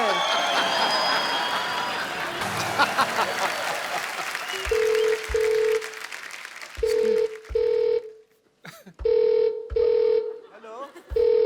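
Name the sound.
telephone ringing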